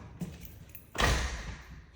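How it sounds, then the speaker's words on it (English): A screen door on a house swings shut with one soft thud and a brief rattle, preceded by a faint tap and settling into quiet room tone. "A screen door so you could keep that open."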